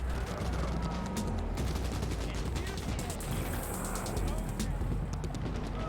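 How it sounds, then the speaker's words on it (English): Gunfire in the video game Cyberpunk 2077 rings out as a rapid series of sharp cracks and bursts over a busy background rumble, moderately loud and irregular in rhythm. "Why do I keep hearing gunfire?"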